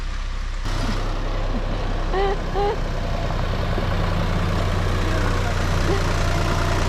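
A tractor engine on a farm hums with a steady, loud drone, and a person laughs over it.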